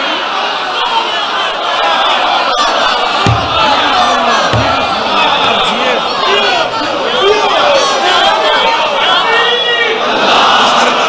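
At a Shia religious gathering (majlis) in Pind Dadan Khan, a large crowd shouts a loud, sustained collective response, a dense continuous roar of many voices filling the whole stretch.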